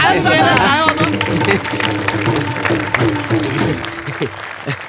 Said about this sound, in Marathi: पोरं टाळ्या द्यायला काय होतं?